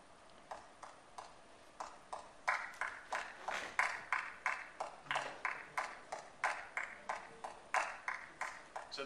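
Two students in separate rooms clapping a rhythm together, a steady run of crisp, evenly spaced claps that grow louder after a soft start, heard fairly faint and distant with no talking.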